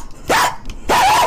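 Dog barking sound effect in a Roblox game, two loud close barks about half a second apart, each a quick rising yelp, with no speech.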